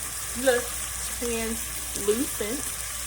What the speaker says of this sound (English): I'm definitely gonna let this saute for a good 2 to 3 minutes, maybe 5, because I like to have my stuff translucent.